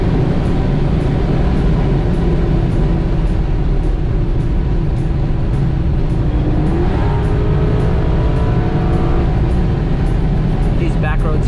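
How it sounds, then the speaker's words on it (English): A Maserati's V8 engine drones steadily and loudly from inside the moving car on back roads, with a brief rising rev near the end and road noise throughout. "if I want to punch it, you hear the glorious V8 open up"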